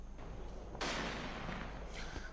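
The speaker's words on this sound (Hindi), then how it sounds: "सीडीएस विपिन रावत को 17 तोपों की सलामी दी गई है" A heavy artillery gun fires during a 17-gun funeral salute, a sudden loud outdoor blast with a long rolling decay, over a steady crowd and wind background, with a fainter burst following.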